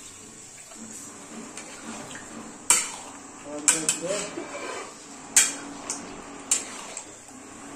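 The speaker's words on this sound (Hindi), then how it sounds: "देखिए इसमें आप पानी डाल रहे हैं," Water poured into a pan while cooking palak paneer in a kitchen, with several sharp clinks of a utensil against the pot over a steady wash of liquid and faint talk.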